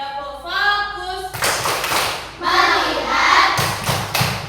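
Children in a classroom clap in rhythm as a clapping game, with loud bursts of unison clapping and group chanting.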